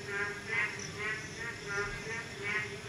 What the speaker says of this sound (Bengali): আর সেই সাথে ব্যাঙের ডাক